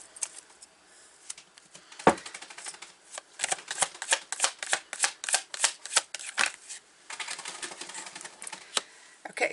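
Tarot cards are shuffled by hand in quick, crisp bursts of riffling and slapping, close and fairly quiet, with short pauses between rapid runs.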